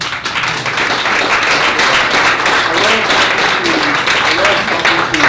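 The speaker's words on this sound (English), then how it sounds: "Clap it up." Audience at a startup event clapping in a sustained, dense round of applause, loud and close, with some voices mixed in under the clapping.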